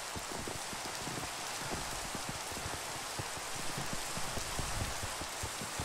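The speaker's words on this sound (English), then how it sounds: "It's raining." Steady rainfall in the Minecraft video game, a dense, constant patter of drops on surfaces, fairly quiet and continuous with no voices.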